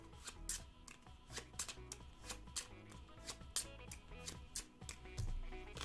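Cards from the Cartographers board game shuffled by hand: a quick series of crisp, papery riffles and slaps in an even, repeated rhythm, close and clear with no talking.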